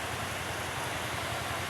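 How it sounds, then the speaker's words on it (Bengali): Steady rain falls in Konabari, Gazipur, Bangladesh, as an even, continuous hiss of drops with no breaks and no voices over the short stretch. "আবারও টানা বৃষ্টি শুরু হয়ে গেছে।"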